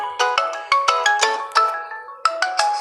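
A phone ringtone plays alone, a bright electronic melody of repeated tonal notes in a quick, steady pattern, fairly loud and close, with a brief pause before the tune resumes.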